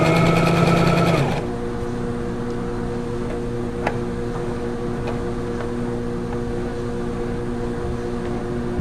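A Brother XL3750 sewing machine stitches a test pattern. A loud, fast mechanical whirr runs for about a second and then stops, leaving a quiet steady hum with a few faint clicks.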